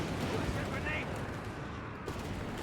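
Whizbang rocket barrage and gunfire slamming into Jaeger infantry in Company of Heroes 3, a dense continuous roar of blasts and shots, loud and sustained with no gaps.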